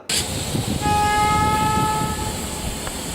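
A train leaving the yard after cleaning sounds its horn once in a single short blast over the low rumble of the idling locomotive, loud and close.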